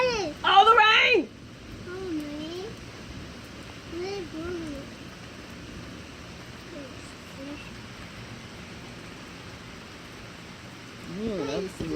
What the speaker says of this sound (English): Oh, the rain!